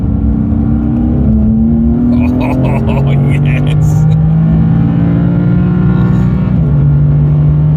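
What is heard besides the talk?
BMW M4 CS exhaust and intake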